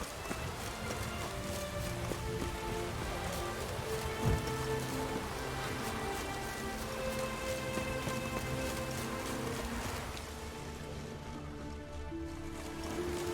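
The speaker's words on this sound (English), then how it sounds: "Looks like rain." Soft steady rainfall in The Witcher 3: Wild Hunt, a quiet continuous patter layered under a low game music bed, with one brief thud partway through.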